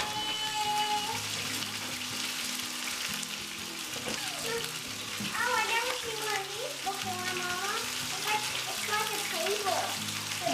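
A whole chicken browns in a Ninja Foodi pressure cooker, giving a continuous sizzle and frying crackle throughout, with some clattering of a metal rack.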